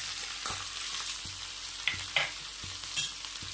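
Coarsely pounded spicy masala paste sizzles and fries in hot oil in a pan over a low flame, a steady soft crackle broken by a few brief louder spatters and stirring scrapes.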